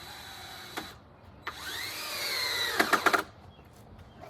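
A 3.5 inch number 10 screw is driven into fence wood at an angle as a toenail, giving a rising power-driver whine of about a second followed by a cluster of sharp clicks and knocks near the end, all close by.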